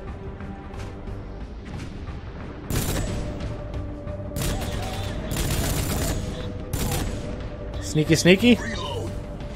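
Gunfire in the video game Rogue Trooper: a dense run of shots and booms with a rattling burst near the end, heard over game ambience while someone talks briefly.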